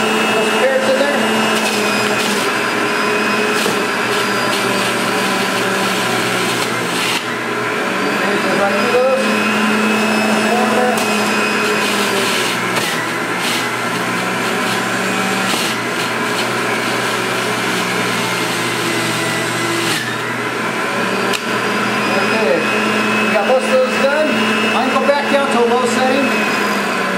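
A Breville Ikon juicer whirs loudly and steadily as carrots are fed through it, a continuous motor drone with grinding surges throughout.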